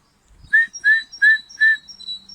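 Four loud, close, evenly spaced whistled notes like a bird call, each a short rising-falling tone, followed by quieter trailing tones.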